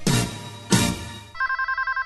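A telephone rings in a rice order advertisement: two loud bursts of sound, then a clear electronic ringtone pulsing in quick, even beeps, with no voices.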